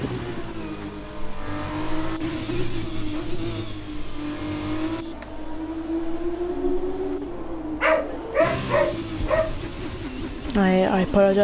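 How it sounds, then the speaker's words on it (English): A pet dog barking and howling indoors, its pitched yelps and wavering howls rising near the end over a background of racing car engines and someone talking. "I apologise for that, that's my dog."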